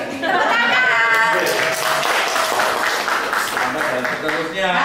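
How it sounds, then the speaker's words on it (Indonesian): Clapping from a group in a parenting and teachers' discussion session, mixed under strong overlapping voices and tonal sound, steady and fairly loud throughout. "Tepuk tangan"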